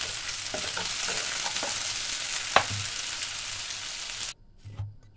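Potato pieces shallow-fry in oil in a kadhai, giving a steady close sizzle with scattered stirring clicks and scrapes, then a brief pause where the frying drops away.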